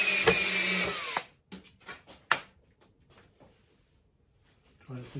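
A power drill briefly whirs while driving a screw into a wooden guitar mould, followed by a series of hollow knocks and clunks of the wood and tools, then quiet with a faint final rattle.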